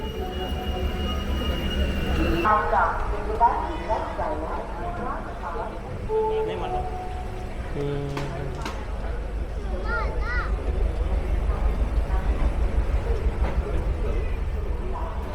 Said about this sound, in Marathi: आणि ट्रेन निघाली सोलापूरकडे